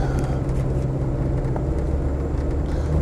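Range Rover Vogue SE 300Tdi automatic's diesel engine pulling after a kickdown, a steady low rumble with road and wind noise, fairly quiet and continuous.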